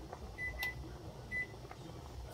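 A kitchen timer gives two short electronic beeps, one about a second after the other, faint over a steady kitchen hum while linguine with clams and mussels cooks on the stove.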